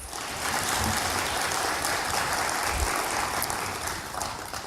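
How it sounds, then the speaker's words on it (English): Audience applause at a Trinidad and Tobago land and marine resources certificate ceremony for Mr. and Mrs. Patrick Ramharak, a steady wash of clapping that holds for several seconds with no speech over it. "Let's give them a big round of applause."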